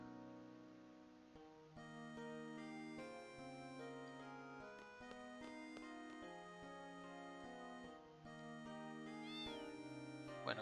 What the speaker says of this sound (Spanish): Lo que hay aquí es un gato.